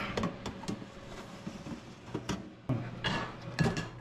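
A hot baking pan holding tortillas is handled and flipped, giving a few clinks and metallic clatters with scraping in between, spread irregularly and fairly close.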